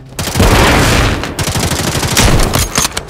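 Loud automatic gunfire in Call of Duty, dense rapid bursts of shots with heavy booms, close and continuous for a few seconds and fading briefly before more firing.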